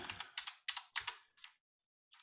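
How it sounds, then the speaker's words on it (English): Quick bursts of typing on a computer keyboard, a few rapid clicks in clusters with short pauses and a final tap after a gap, close and fairly quiet with no voices. "I'm just typing."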